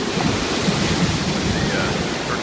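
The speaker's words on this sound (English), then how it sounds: "The turquoise water, big waves, pounding surf, black sand, palm trees, treacherous." Big waves and pounding surf roll onto a black sand beach at Waianapanapa State Park in Hana, Maui, a continuous loud, close wash of breaking water with wind rumbling against the microphone.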